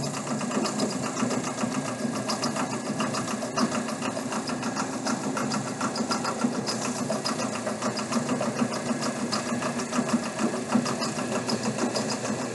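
A compound electric motor spins at 1800 RPM with no load, giving a steady, close, continuous whir with a fine rapid mechanical ticking and no change in pitch.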